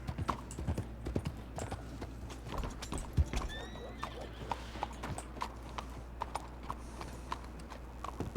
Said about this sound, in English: yep, we got a horse outside.